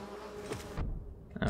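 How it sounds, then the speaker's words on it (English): A large bee from the Hive area of the Hollow Knight video game buzzes steadily at close range, holding a continuous hum that is briefly cut by a short gap before returning. "That is definitely a large bee."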